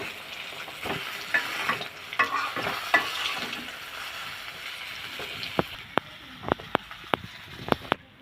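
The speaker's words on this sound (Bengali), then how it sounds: "মাছগুলো ভাজা হয়ে গেছে এখন নামিয়ে নিব এক এক করে" Sarpunti fish frying in oil in a pan, a steady close sizzle with frequent sharp clicks and taps of a utensil against the pan, the crackle easing toward the end.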